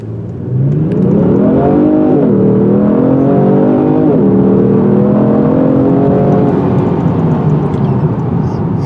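A 2019 Genesis G70 V6 turbo engine revs hard and climbs through several gear shifts, each rise in pitch dropping briefly before pulling again, loud and close.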